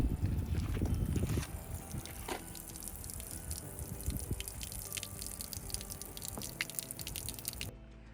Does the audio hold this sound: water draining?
yes